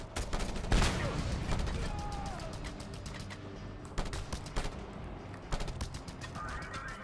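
Rapid bursts of gunfire crack out in a Just Cause 2 firefight, sharp broadband shots clustered early and again midway, mixed with game ambience and a brief chirping tone.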